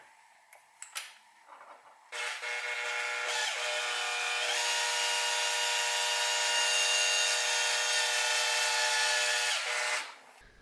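A power drill bores a hole into the oil galley of a CRF50 engine, whining steadily at high pitch for about eight seconds after a few short clicks and taps, then stopping abruptly.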